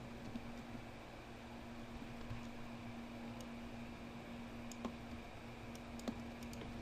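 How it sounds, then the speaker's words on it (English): FTP account details are typed on a computer keyboard, giving faint scattered key clicks over a constant low electrical hum and room noise. "so you type it in"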